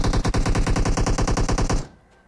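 Rapid automatic gunfire in the mobile battle royale PUBG Mobile: a loud, close burst of evenly spaced shots that runs nearly two seconds, then cuts off abruptly into quiet.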